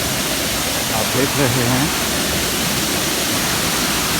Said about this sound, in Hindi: झरना कहें या नाला कहें, ये पूरे दिन यहाँ पे बहता रहता है